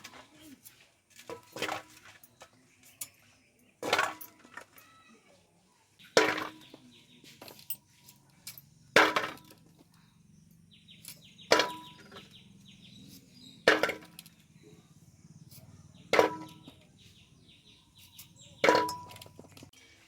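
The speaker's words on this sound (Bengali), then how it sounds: "এইভাবে আমড়ার বোটাটা কেটে নেব।" Young hog plums (amra) having their stems cut off with a blade, heard as sharp isolated chops repeating about every two and a half seconds over a quiet background.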